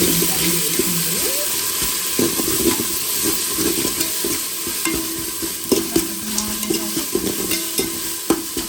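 Ginger garlic paste stirred into a prawn biryani masala in a pan, with a steady sizzle of frying and scraping spoon strokes, plus intermittent clinks and water sounds from the kitchen.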